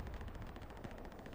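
Rapid machine gun fire rattles in a continuous, evenly spaced burst during a competitive Hell Let Loose-style esports match, loud and close with no pause.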